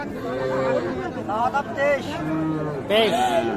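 Three-month-old calves moo repeatedly at a cattle market, several short bleating calls rising over a steady backdrop of people chatting nearby.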